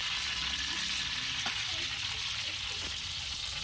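About 60 grams of whole cumin seeds sizzle in hot oil in a pot for beef degi gosht, giving a steady, dense frying hiss that is close and continuous, with no talking.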